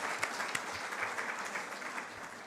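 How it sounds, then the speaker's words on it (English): Audience applause at a book launch: many people clap together in a brief, lively burst, with a few sharper individual claps standing out near the start. "So, claps for him,"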